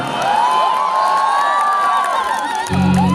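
A concert crowd at a show in Makassar cheers and whoops for the drummer, dense and loud throughout, with shouting voices rising over the roar and a brief low rumble near the end.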